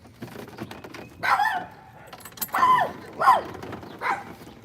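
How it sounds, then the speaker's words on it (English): A dog barking several times in separate bursts from nearby, with a short whimpering yip, set against quiet outdoor background at a catfishing spot. "Dog don't want me back here, y'all."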